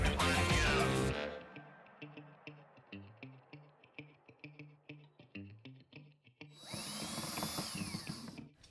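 A power drill drives pocket hole screws into a bathroom vanity cabinet frame, with short repeated bursts of motor whir and pauses between them, then a longer high-pitched spin near the end.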